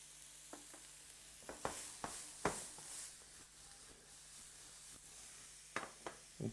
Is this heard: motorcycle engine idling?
no